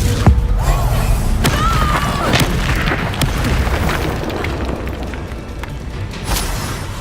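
Booming spell blasts of Confringo in a Hogwarts video game, a loud burst near the start, then more thuds and crackling pops over a dense, rumbling game soundscape that stays loud throughout.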